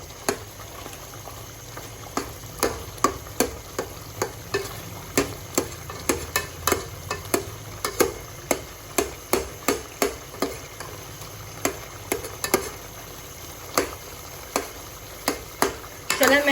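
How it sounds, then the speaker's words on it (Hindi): Tomatoes being mashed into a bubbling chicken karahi in a pan, with rapid repeated taps and knocks of the utensil over a constant boil and sizzle of oil, close and steady. "टमाटरों को हमने मैश करना है साथ साथ"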